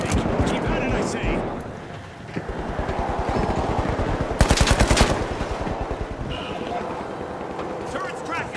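Rapid automatic gunfire from The Finals video game chewing into destructible walls, a dense burst of shots and crumbling impacts in a chaotic match, loud and close over continuous game noise.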